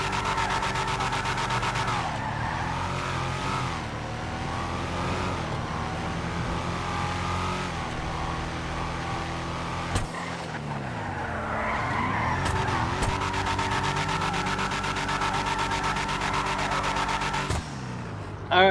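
A Declasse Yosemite drift truck in GTA V slides through continuous drifts, its engine revving and falling with tires squealing steadily and loudly throughout, close and without talk.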